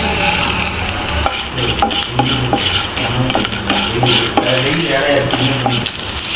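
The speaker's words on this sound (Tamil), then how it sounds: "இப்போ மல்லி நல்லா ரோஸ்ட் ஆகும் போதே இப்போது பெப்பர் கொஞ்சம்" Coriander seeds and black pepper dry roasting in a pan for mushroom pepper fry, a continuous close dry crackle and hiss with repeated scraping strokes of a spatula stirring the spices, loud and steady throughout.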